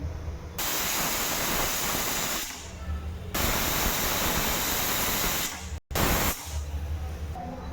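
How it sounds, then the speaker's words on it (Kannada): A pressure cooker with mung beans lets out loud, continuous hissing of steam under pressure, breaking off briefly in a few spots before resuming just as strongly. "ಇದನ್ನ ಇವಾಗ 3 ಸೀಟಿ ತೊಗೋತೀನಿ ನಾನು"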